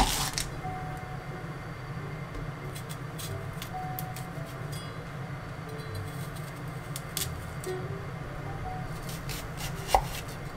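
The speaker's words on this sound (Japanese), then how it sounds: "その間に玉ねぎを切ります。 玉ねぎは1センチの角切りにします。" A kitchen knife dices an onion into one-centimetre cubes on a cutting board, a steady run of quick, close chopping strokes against low background hum, with one sharper knock near the end.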